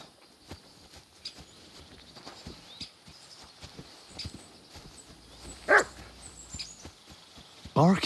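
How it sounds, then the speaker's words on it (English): In the medieval game Kingdom Come Deliverance II, a dog gives two short barks at a middle distance over a faint, busy outdoor ambience of footsteps and soft knocks. "Barking."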